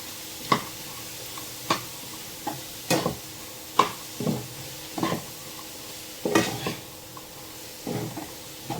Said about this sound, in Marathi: मी हा एवढा सगळा गोळ इथे टाकते आणि हा व्यवस्थित मिक्स करून घ्यायचा